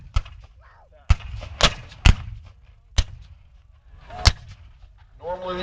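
A Civil War artillery cannon fires with a friction primer that sends a spark through a fulminate-filled copper tube into the powder bag. Several sharp, loud, booming reports crack out at uneven intervals, and a voice starts at the very end.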